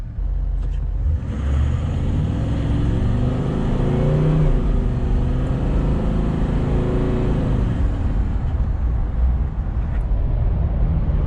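A Toyota 70 Series with a converted 6-speed automatic pulls away from a standstill, its engine rumbling and climbing through a long, steady, loud acceleration that settles after several seconds.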